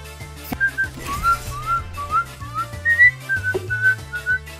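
Someone whistles the Naruto theme tune up close, clear notes rising and falling in a steady rhythm over a quiet background beat.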